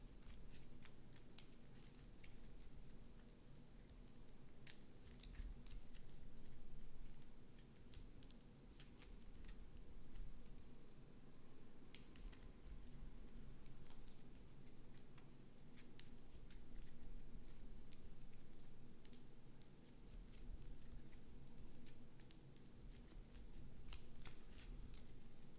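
Playing cards from a Rambo tabletop board game are shuffled with sporadic faint riffles and crisp clicks. The sound comes in bursts over a quiet room for nearly half a minute.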